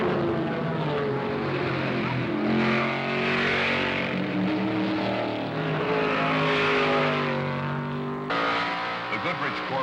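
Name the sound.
race cars at 1973 Le Mans race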